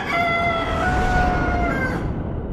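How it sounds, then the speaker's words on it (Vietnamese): A cartoon rooster crows one long, loud, sustained cock-a-doodle-doo of about two seconds over a dense, noisy animated soundtrack background. "Xin chào cậu gà. Tiếng gáy của cậu nghe hay thật."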